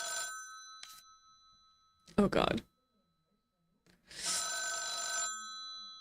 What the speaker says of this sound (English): Alright, I'll pick up the phone.